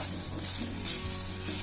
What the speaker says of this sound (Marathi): भाजीसाठी कांदा भाजताना शक्यतो लोखंडी कढई किंवा लोखंडी तवाच वापरायचा